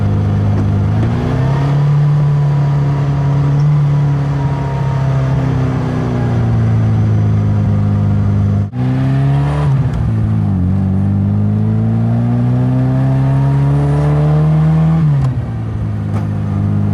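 A 1959 Fiat Abarth 750S Allemano Spyder engine revs evenly and steadily, its pitch rising and falling through two long sweeps with a brief dip in between, loud and close with no talking.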